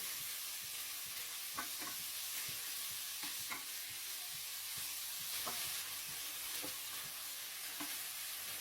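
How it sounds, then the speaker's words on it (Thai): Pork neck stir-frying with red curry paste in a pan: an even, steady sizzle with intermittent spatula scrapes and knocks spaced a second or two apart, moderately quiet and without talk. "ผัดให้ หมูสุกให้หมดเลยนะครับ แล้วก็พริกแกงเนี่ยเขาจะเข้าไป ซึมซับในตัวหมูนะครับ ผัดให้แห้งเลยนะครับ"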